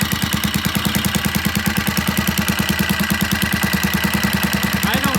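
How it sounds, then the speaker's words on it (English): A vintage British motorcycle engine idles close by with a steady, rapid thumping pulse and a metallic clatter, running evenly throughout. "We got the engine running."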